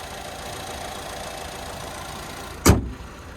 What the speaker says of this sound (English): There's that 2-liter turbocharged 4-cylinder.